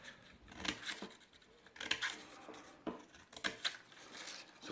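Scissors snip through paper as pieces are cut out for a folded paper box, close crisp cuts in irregular bursts with short pauses between them.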